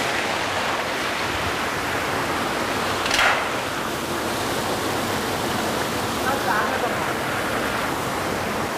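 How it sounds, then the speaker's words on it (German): A loud stream rushes without a break inside the Kobelwald crystal cave, a dense echoing roar that fills the space, with a faint short voice rising briefly above it. "Der Bach ist auch sehr laut"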